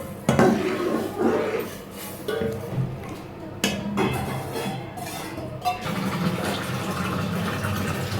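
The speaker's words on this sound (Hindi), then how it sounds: "अब मैं वो इस स्टेज पे इसमें पानी ऐड करूँगी।" Hot water is poured into a pan of roasted vermicelli with a splashing, gushing rush and a few clinks of cookware, close and fairly loud, continuing steadily as a sizzle settles in.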